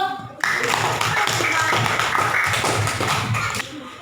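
Children in a primary classroom clap their hands together, a brisk, loud patter of many claps that starts suddenly and carries on, with some voices mixed in.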